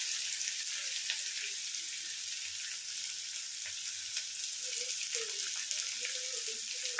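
Finely chopped onions frying in hot oil with dried chilli and fenugreek, a loud, steady crackling sizzle with occasional stirring, no talking.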